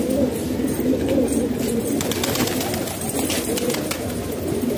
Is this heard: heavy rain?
no